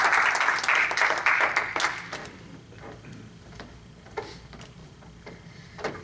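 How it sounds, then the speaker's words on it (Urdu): Audience clapping to welcome a speaker at an Urdu literary tribute event for Jaun Elia, full and lively for the first two seconds, then thinning to a few scattered claps and faint room noise. "زوردار تالیوں کے ساتھ استقبال کیجیے."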